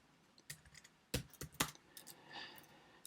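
Computer keyboard being typed on while writing Java code, giving a few quick scattered keystrokes and clusters of clicks, close and fairly quiet, with no talking.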